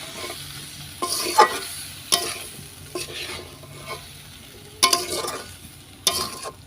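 Winter vegetables sautéed in a pan for a fish curry, stirred with a spatula. A low frying sizzle runs underneath, broken by several sharp scraping strokes that come at irregular intervals, and there is no speech.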